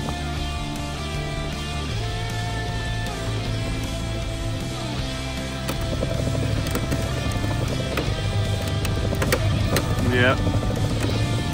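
A Traxxas TRX-4 RC crawler with a new motor strains up an obstacle under throttle, producing a steady whining electric drone that grows louder partway through, with voices talking over it.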